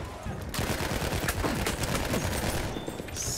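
Rapid gunfire in Battlefield 1, dense overlapping bursts of automatic weapons and single shots crackling steadily close by through a chaotic battlefield mix, with no talk.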